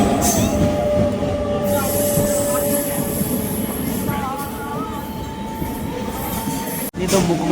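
An Indian passenger train rolls along the rails between Mugma and Thapar Nagar stations, a loud continuous rumble with wheel squeal and whining tones riding over it, ending in a brief sharp drop.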